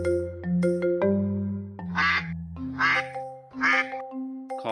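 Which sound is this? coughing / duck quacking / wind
duck quacking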